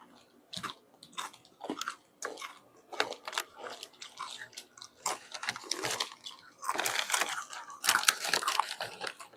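Close, loud crunching and chewing of a crisp coconut and mango flavored Vietnamese cracker, with repeated crackly bites in an irregular rhythm throughout and no talking.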